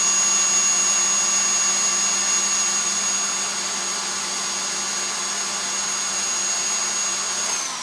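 An electric mixer whirs steadily and fairly loudly while beating candy for homemade peanut butter and marshmallow Easter eggs, a constant high motor whine that drops off at the very end.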